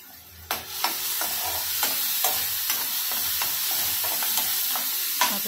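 Cumin seeds spitting in very hot oil for an egg kadhi, a steady close sizzle broken by sharp crackles and pops, with stirring taps in the pan.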